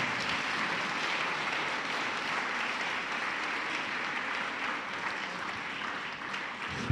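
A church congregation claps continuously in dense, even applause that fills the room for several seconds, with no voices standing out.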